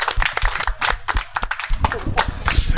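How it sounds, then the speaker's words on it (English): Audience clapping at a business chamber speaking event in Bali, a steady patter of many hands applauding close by, with voices mixed in. "round of applause please for Guzman"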